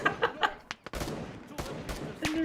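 Gunfire rings out in the military video game Arma 3, a few sharp bursts and single shots mixed with distant popping, while a voice talks over it.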